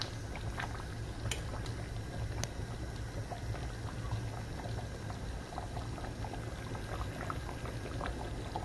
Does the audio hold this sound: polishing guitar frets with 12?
no